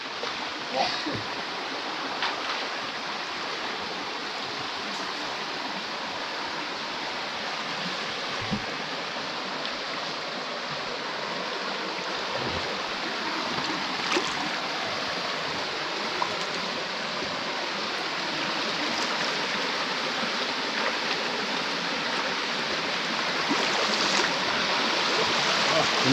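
A clear, cold river flows in a steady, close rush of broadband water noise that never lets up, with occasional voices faintly heard beneath it.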